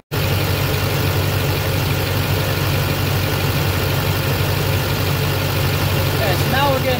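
A vehicle engine with an Allison transmission idles steadily and close by while the transmission fluid is checked, a constant low rumble holding even for the whole stretch, with no talk over it.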